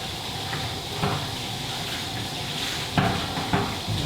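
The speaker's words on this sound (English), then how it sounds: "I'm turning on the hot water" Hot water running from a tap through a valve and gray hose for an aquarium water change: a steady, broad hiss of flowing water, with a few faint knocks and clunks over it.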